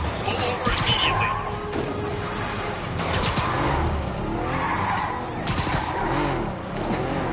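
Cars skidding during a chase in a Spider-Man video game, with loud, repeated tyre squeals and engine roar close by, and a voice speaking over the noise.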